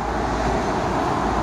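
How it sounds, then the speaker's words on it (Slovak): Steady, loud roar of London traffic with a sightseeing tour bus passing close, a dense continuous engine and road rumble with no breaks and no voices. "Hej, výhľadkový autobus"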